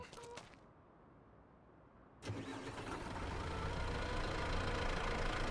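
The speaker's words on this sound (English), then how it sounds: "Gonna start up the old Landini here," After a brief click and a moment of near silence, a Landini tractor in a farming video game cranks and fires up, then settles into a loud, steady, rumbling idle.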